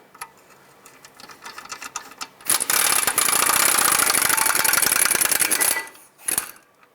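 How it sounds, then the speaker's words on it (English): Rapid mechanical rattling of a power tool, likely an impact wrench, spinning out a 17mm bolt on the rear brake caliper bracket of a 2003–09 Toyota 4Runner, loud and steady for about three seconds, then a short second burst. "Next thing you want to do is remove these 2 17mm bolts."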